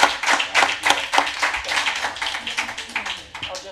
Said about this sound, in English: A round of applause for Councilman Jim Wooten.